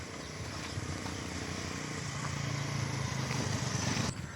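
A motorcycle rides along with a steady low engine drone and wind noise, its rumble building slightly before a brief drop near the end.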